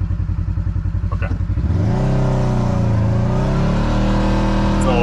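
A Kawasaki KRX side-by-side engine pulses at low revs, then climbs into a steady, loud droning whir at about 4,600 RPM while rolling near 10 mph, heard up close with no talk.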